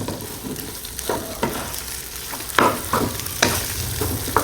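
Rice stir-fried in leftover oil in a pan while making pineapple fried rice, a steady sizzle broken by several sharp scraping stirs of the spatula, close and fairly loud.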